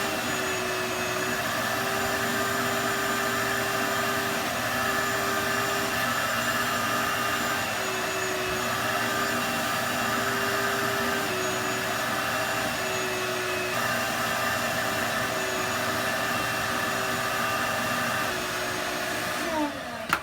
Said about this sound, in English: Now I'm just going to go over it with the vacuum